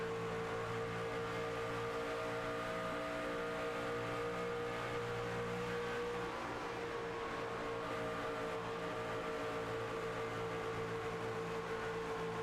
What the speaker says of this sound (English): I just enjoy listening to these trucks work their way through the corners